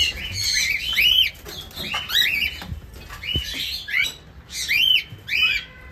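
A young cockatiel chick, just out of the nest box and not yet flying, gives repeated harsh squawks in short bursts, loud and close.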